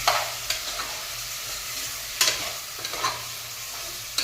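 Onions frying with salt and turmeric in a pan for chicken biryani, stirred by hand: a steady sizzle with several distinct scraping stirs at irregular intervals, fairly close and without talk.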